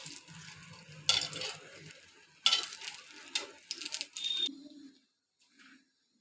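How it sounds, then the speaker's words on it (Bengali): Fenugreek seeds are dropped into hot oil for tempering while cooking taro greens with hilsa fish heads, giving sharp bursts of sizzling and stirring, then fading to near silence. "আমি মেথি ফোড়ন দিয়ে দিলাম"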